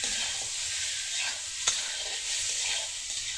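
Green banana and potato fry in a pan, giving a loud, steady sizzle close up, with the soft scrape of stirring running through it.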